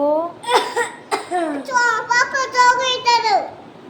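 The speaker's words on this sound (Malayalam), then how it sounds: "ചോക്ലേറ്റ് കഴിച്ച ചുമ മാറുമോ" A young child coughs several times in short bursts, close and loud, with high childish vocal sounds between the coughs.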